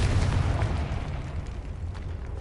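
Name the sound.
Confringo explosion spell, video game Hogwarts Legacy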